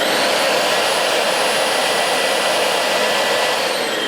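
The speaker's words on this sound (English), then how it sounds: "So this is what it is, sounds like when it's suction only." A Dyson DC25 upright vacuum cleaner runs with only its suction motor on, making a loud, steady, close rushing whine with a thin high tone that holds unchanged throughout, with no talking.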